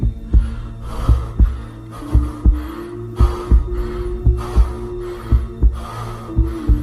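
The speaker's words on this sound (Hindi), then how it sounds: "सिर्फ अश्मित के हांफने की और उसकी तेज धड़कनों की" A steady, rapid heartbeat thumps in paired beats over a low hum, loud and close, with no other sounds.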